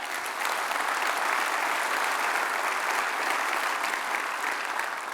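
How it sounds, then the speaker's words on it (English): Steady, dense applause from a large crowd at a port address event, continuous and fairly loud throughout with no voices standing out. "Let's give a round of applause on that."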